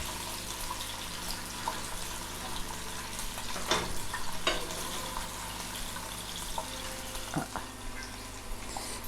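Calamari with garlic and pepper fry in a pan with a steady, even sizzle, joined by a few scraping stirs and clinks of a utensil turning the pieces.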